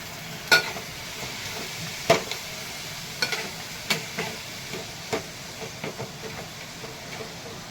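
Tomatoes go into a hot pan and fry with a soft, steady sizzle under a series of stirring knocks and scrapes at irregular intervals, with no talking.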